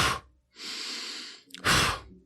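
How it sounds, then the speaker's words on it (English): Rapid sharp breathing exercise: a quick exhale, a longer steady inhale of about a second, then a forceful sharp exhale, close-miked and loud with no talk. "breathing in and then sharp out"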